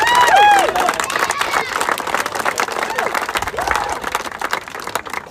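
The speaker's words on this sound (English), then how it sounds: "So a round of applause for everyone there." A crowd at a Chicago GAA club event breaks into applause, with loud clapping and cheering early that settles into steadier clapping, and voices can be heard in the crowd.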